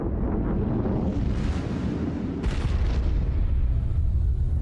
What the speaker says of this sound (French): L'immense astéroïde frappe notre planète.